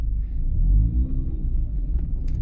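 A high-mileage rotary-engine car fitted with an Exedy HD Turbo II clutch and a Racing Beat flywheel is driven along. A deep, steady low rumble from inside the cabin holds throughout, swelling slightly midway, with no voices.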